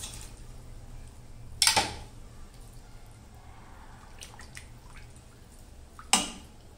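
Boiled noodles for veg Schezwan noodles are dropped into cold water and drained, giving two brief, faint splashes and pours with soft drips and light clinks of a kitchen vessel between them.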